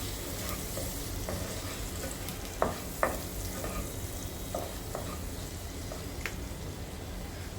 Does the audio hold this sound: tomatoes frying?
yes